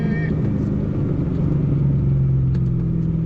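A Corvette engine idling as it warms up, a steady close low rumble with a slight rise in revs, loud and continuous.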